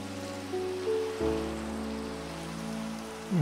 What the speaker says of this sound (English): a nice rainy day never hurts